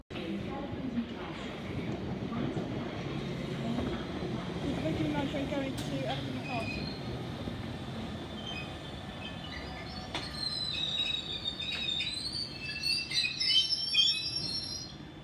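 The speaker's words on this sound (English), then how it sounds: "Departing now is the London North West Railway train going to London Euston." A London Northwestern Railway train pulls out of Harrow & Wealdstone station with a steady low rumble of wheels and carriages and faint high wheel squeals, while birds chirp in the background throughout.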